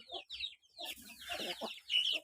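Young chickens about five to six months old cluck and squawk in quick, uneven bursts nearby, moderately quiet, with no talking.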